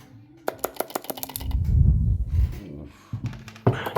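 Keys tapped on an 8BitDo keyboard, a quick run of sharp, close clicks followed by a louder thudding stretch and a few more taps near the end.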